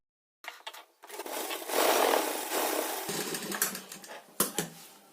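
A sewing machine stitches a blouse seam in a close, steady whirring run that lasts several seconds, speeds up and slows, and ends with a few short bursts. No voices are heard.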